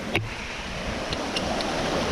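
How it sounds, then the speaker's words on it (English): Small waterfall spilling through a hole in the snow on a mountain trail in Strathcona Provincial Park, a steady broadband rush of falling water, close and continuous with a brief bump near the start. "Super cool little waterfall portion."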